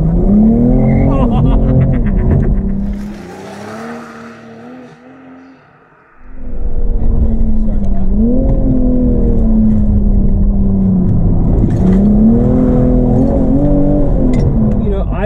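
A BMW M240i G42 on lowering springs, traction control off, revs hard and slides sideways, engine note climbing and dropping in repeated surges, with a short dip in loudness in the middle.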